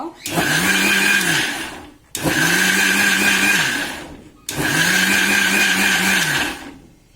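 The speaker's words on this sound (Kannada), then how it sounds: "ಈ ಥರ ಬಿಟ್ಟು ಬಿಟ್ಟು ಮಿಕ್ಸಿ ಹಾಕ್ಕೋಬೇಕು." A mixer grinder churns cream into butter in three loud whirring bursts of about two seconds each, separated by brief pauses as it is switched off and on.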